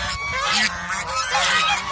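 A gander honks close and loud in a steady run of harsh, overlapping calls from a small flock of domestic geese, dense throughout with no gaps.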